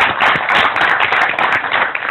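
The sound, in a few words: audience clapping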